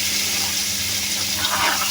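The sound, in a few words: water poured into mutton nihari curry masala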